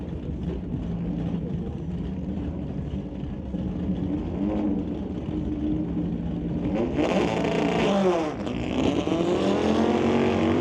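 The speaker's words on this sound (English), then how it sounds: "both cars are going to get to the stripe at pretty much exactly the same time, as John DePort, already pre-staged" Drag race cars, a Volkswagen and a Camaro, roar at the strip, the engines droning loudly before a sharp rising howl of acceleration as they launch.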